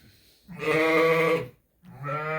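Lambs in a lambing barn give two loud, close, drawn-out bleats separated by a brief silence, with no voices.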